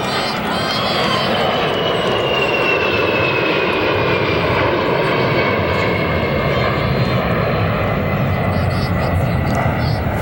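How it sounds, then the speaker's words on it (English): A fixed-wing airplane passes overhead during an outdoor girls' high school state tennis final, producing a loud, steady engine drone that fills the whole stretch without fading. "wait for the airplane overhead, which you no doubt heard"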